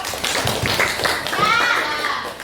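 A classroom of students claps for a student group, a steady patter of many hands mixed with children's chatter and shouts, loud and close throughout.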